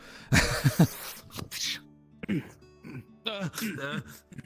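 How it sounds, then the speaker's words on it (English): A few rough coughs and throat-clearing grunts up close, mixed with brief voiced sounds. "what was your cough?"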